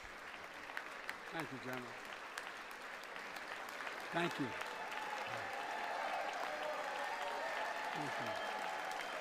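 A live event audience breaks into sustained applause that swells and holds steady while a man repeatedly thanks the crowd over it.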